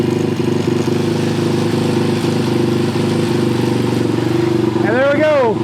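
A Redline 212 small engine runs close by with a steady, loud idle and a constant throbbing drone, with a short rising-and-falling whine near the end.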